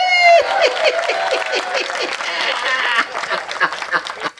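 Applause and laughter from an audience at a Hindi comedy poetry show, clapping dense at first then thinning into scattered claps, with a voice briefly heard over the start.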